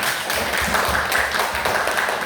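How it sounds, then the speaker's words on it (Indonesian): A school class claps together in a brief, dense burst of applause that fills the room and lasts only a couple of seconds, with no voices over it. "Oke, tepuk tangan untuk kalian semua."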